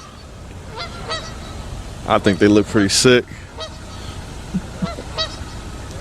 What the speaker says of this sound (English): these daggone geese, man. Look at them things.